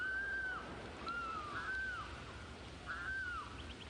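A wild bird calls out several times in a row, with short rising-and-falling cries spaced apart over a steady outdoor background hiss.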